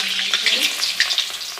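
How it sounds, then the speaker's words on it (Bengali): Potatoes fry in hot oil with a bright, crackling sizzle and small bursts of spattering, steady and close, with no talking. "আলু একদম লাল লাল করে ভাজা হয়ে গেছে, এটা নামিয়ে নিব।"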